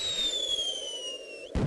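Fireworks launch in a 1998 Edmark educational game: a rising whistle glides down over about a second and a half, then ends in a sharp burst of crackle.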